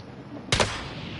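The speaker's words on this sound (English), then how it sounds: "Oh, I'm getting shot at." A single close burst of video-game gunfire rings out as the player comes under fire, a sharp double crack that stands out from a quiet, steady background.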